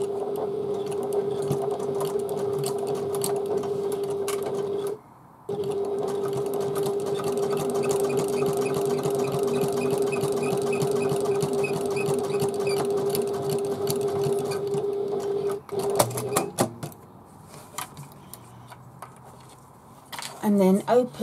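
A sewing machine stitches a handbag seam in a steady, even whirring run that pauses briefly, then gives way to clicks and handling noises as the stitching stops, with a voice talking over it.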